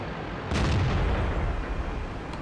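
A tank cannon firing at a T-34 in a video game, a single heavy boom with a low rumbling tail that fades over about two seconds against a steady background.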